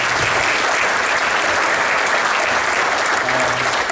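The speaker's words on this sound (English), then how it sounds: "So give them a round of applause." An audience at a school board of education meeting applauds, producing dense, loud, continuous clapping that holds at full strength from start to finish with no talking over it.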